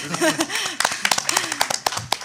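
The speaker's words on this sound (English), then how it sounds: "That's worth an applause" A handful of people clap in scattered, uneven bursts at a community meeting, the sharp individual claps mixing with a speaking voice.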